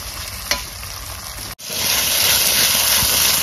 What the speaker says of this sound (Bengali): দইটা ভালো করে এর মধ্যে মিশাইতে হবে।